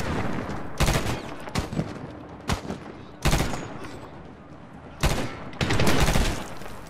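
Gunfire in the video game Medal of Honor: several loud bursts of automatic fire and single shots in irregular clusters over a low battle background.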